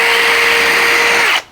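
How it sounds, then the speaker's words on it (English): A power drill with its bit boring straight into a deck board through a Kreg deck jig, a loud steady high whine held close for over a second before it cuts off abruptly. "Got our drill with our drill bit, straight in like so, nice and firmly"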